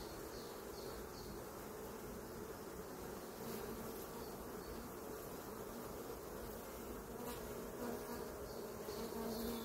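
Honey bees buzzing around an opened hive frame of brood with pollen and large larvae, a dense steady drone close by, continuous throughout with no talking.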